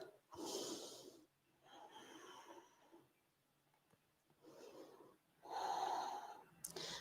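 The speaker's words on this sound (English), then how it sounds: "Big breaths." Slow, deep breaths during a Hatha yoga session, each long inhale and exhale audible as a soft airy rush, close and fairly quiet, with short pauses between them and no talking.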